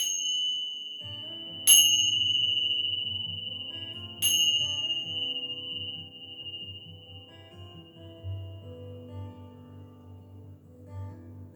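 Two bright bell strikes ring out during a calm hatha yoga relaxation, each with a long shimmering sustain that slowly fades over a soft low drone, with no talk.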